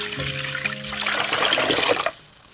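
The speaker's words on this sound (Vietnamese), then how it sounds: "Cho nước vào thau." Water pours into a basin in a close, rushing stream that swells and then cuts off abruptly near the end, leaving a short quiet tail with no talking.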